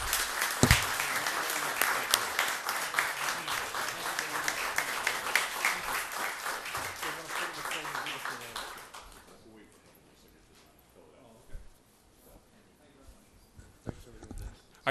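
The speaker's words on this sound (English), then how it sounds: "May we please have a round of applause." Applause at a town selectmen's meeting, a room of people clapping briskly and loudly for about nine seconds before it fades to a few stray claps and quiet room noise.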